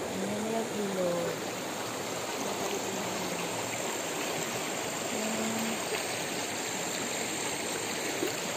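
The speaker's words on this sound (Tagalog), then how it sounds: "Ayan na yung ilog." A river flowing in the countryside near a water buffalo, a steady broadband rush of moving water heard continuously, with a few brief voices at the start.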